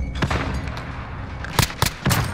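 Gunfire in a video game shooter: several sharp, loud reports in quick succession, with a heavier burst of three shots near the end over a steady din of in-game noise.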